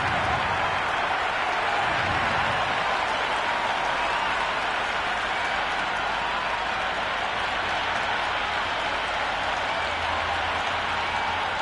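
A cricket stadium crowd at an IPL match between RCB and SRH roars before the first ball is bowled, a constant dense wall of cheering and scattered clapping, loud and unbroken throughout.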